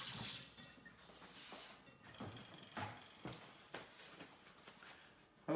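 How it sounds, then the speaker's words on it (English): Hands are rinsed under running water at a kitchen sink while cooking roasted carrots, splashing in uneven bursts with short drips and knocks, fairly quiet. "I'm gonna rinse the hand."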